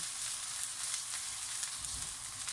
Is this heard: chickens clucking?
no